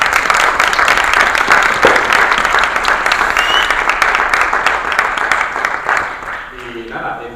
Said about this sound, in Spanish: un aplauso para los participantes.